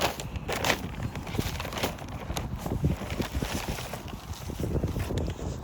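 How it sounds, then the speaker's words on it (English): Gusty wind outdoors in a garden buffeting the microphone, a continuous rough rumble that swells and eases in uneven bouts with faint crackling, no talking. "We're trying to do it between bouts of wind."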